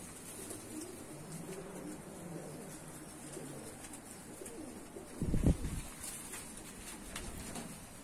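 Rock pigeons in Tbilisi, Georgia, giving soft low cooing calls among faint background ambience, with a brief louder thump or flutter near the middle; quiet and fairly close.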